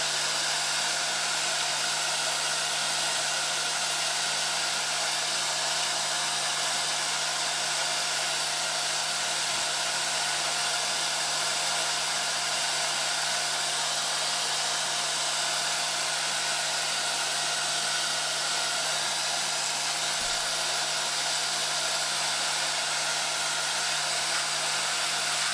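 A vacuum cleaner sucks up model railway ballast, a loud, steady whining roar with a constant hum that runs unbroken for about twenty-five seconds, with only faint rattles of grit.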